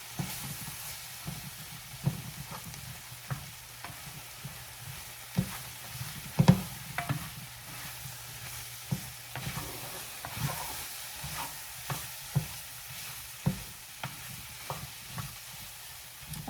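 Flour-coated beef for carne guisada fries in a pan, a steady soft sizzle and hiss broken by repeated scraping stirs and clacks of a utensil, close and alone, with no talking.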